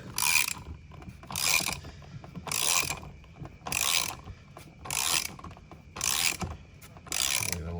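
Ratchet wrench unscrewing a seat belt bolt inside a C6 Corvette, seven evenly spaced bursts of rapid clicking close up, with quiet pauses between strokes.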